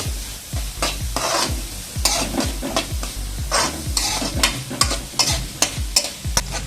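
Mushrooms being sautéed until browned for a Kerala-style dish, with a spoon scraping and stirring the pan in a steady rhythm of about two strokes per second over a constant close sizzle.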